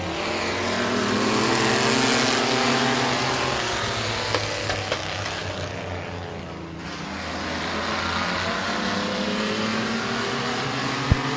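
Mini trucks roar off at the start of a 12-lap dirt track race at Midvale Speedway, engines revving loudly together with a sustained rising and falling drone as the pack passes.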